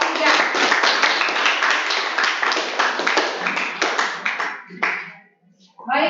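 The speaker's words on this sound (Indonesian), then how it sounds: "Tepuk tangan buat kelompok 3." Classroom applause for a presenting student group: many hands clapping steadily and loudly for about five seconds, then tapering off into brief quiet before a short final burst of clapping.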